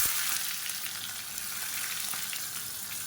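Shallots and chopped skin-on garlic cloves fry in hot oil with a steady, close hiss that stays constant and unbroken, no voices.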